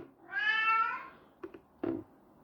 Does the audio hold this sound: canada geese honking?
no